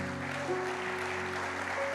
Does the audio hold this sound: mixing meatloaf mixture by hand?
no